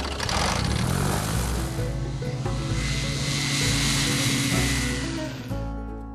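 A light propeller aircraft engine drones loudly and close at Frymburk airfield, a throbbing rumble with steady harmonic hum that swells, then fades away toward the end.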